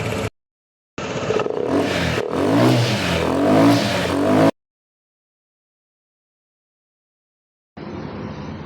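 A Honda PCX160 scooter engine with a fuel pump issue, fitted only with a rammer, revs hard in two bursts that rise and fall, separated by silences, close and loud.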